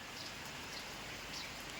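Steady rain pours down outdoors on a rainy day near cattle, a soft continuous hiss with no speech.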